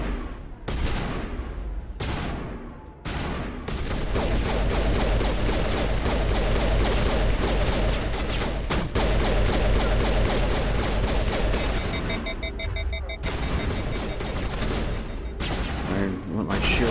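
Rapid, sustained gunfire from the video game Mass Effect, dense bursts of shots and booms layered with game effects, loud and nearly continuous after a few opening shots.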